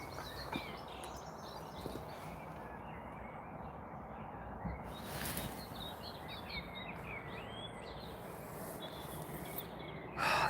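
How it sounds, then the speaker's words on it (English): Faint birdsong in the distance, scattered chirps and trills over a soft background hiss, with a brief louder burst near the end. "It's lovely, hearing the birds."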